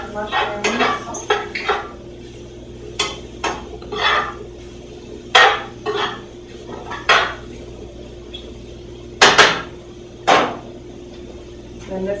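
A spoon clatters and scrapes against a pan as mushrooms are stirred while cooking Swedish meatballs. The sharp metallic clinks and knocks come in irregular bursts over a steady low kitchen hum.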